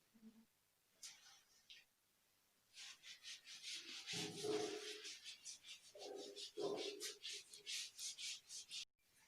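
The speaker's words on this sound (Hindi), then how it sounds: "मैं इसको रब कर दे रहा हूँ ना" Dry rubbing strokes of something wiping writing off a board, coming in repeated bursts of scraping sound, moderately close, with a voice talking briefly in between.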